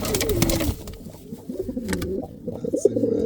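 Indian fantail pigeons cooing in a breeding loft, soft repeated throaty coos close by, with some rustling and brief wing movement around them.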